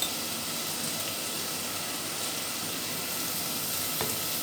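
Chopped large onions sauté in a hot pan, giving a steady, even sizzle and crackle from start to finish with a faint stirring scrape near the end.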